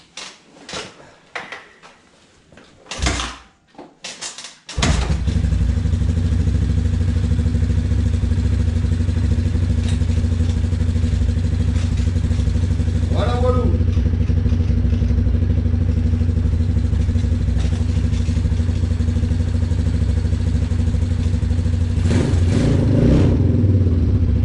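A 250cc supermotard motorcycle engine starts after a few clattering attempts, then idles steadily and loudly with a constant low drone and a small blip of revs near the end.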